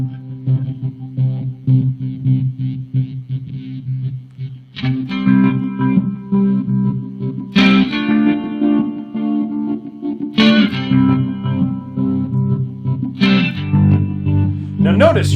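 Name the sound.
guitar through BOSS pedal with pulsating bass effect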